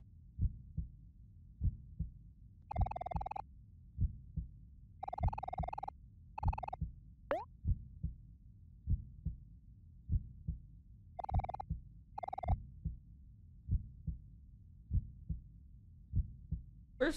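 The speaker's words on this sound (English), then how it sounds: "I don't like this heartbeat noise." A steady heartbeat plays in the OMORI video game, repeating as an even, low double thump throughout. Several short tonal beeps and a quick rising chirp from the game sound over it.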